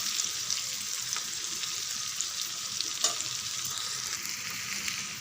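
Fish pieces fry in oil in a pan, giving a loud, continuous crackling sizzle with scattered pops and one sharper tick partway through.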